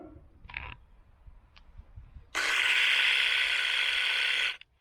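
Livestock clippers with freshly sharpened blades run in a steady, even buzz for about two seconds, close and fairly loud, after a couple of faint clicks, then switch off abruptly.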